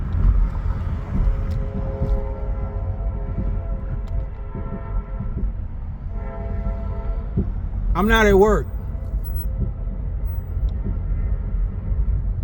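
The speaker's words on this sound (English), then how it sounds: "And y'all hear the train." A train rumbles steadily beneath ongoing speech, with a brief horn-like blast partway through, moderately distant.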